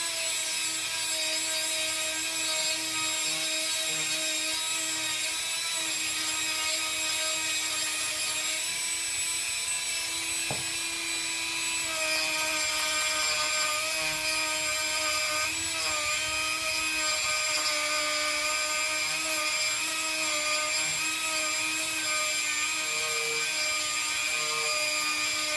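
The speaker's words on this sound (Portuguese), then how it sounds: "Agora a gente precisa dar uma lixada por dentro e depois por fora." A small high-speed rotary tool sanding the inside of trident pieces, a continuous shrill whine with steady tone and slight pitch shifts as it bites, close and loud, running alone without speech.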